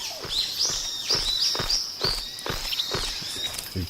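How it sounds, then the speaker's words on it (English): Loud, high chirping birdsong repeats in quick bursts close by, over a series of footsteps crunching along at a steady pace. "These birds are really fucking loud."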